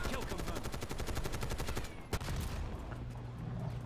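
Rapid automatic gunfire from Black Ops 6 gameplay, a dense sustained burst of close, loud shots that breaks briefly before a sharp crack and lighter firing resumes.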